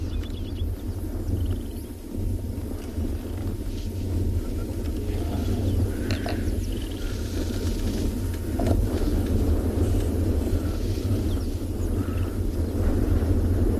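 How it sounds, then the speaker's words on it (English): Low continuous rumble of distant thunder rolls on steadily over an African game reserve at sunset after a hot day, under a dense, hissing background that may include light rain. "Still some beautiful thundering noises."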